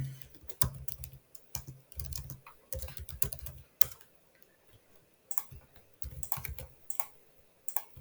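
Bursts of computer keyboard typing come in quick clustered clicks with short pauses between them, close and fairly quiet, with no talk.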